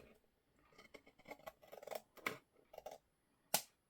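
Scissors trim paper during bookbinding work on sewn signatures, giving a quick run of close, crisp snips and cuts, with one sharp louder snip near the end.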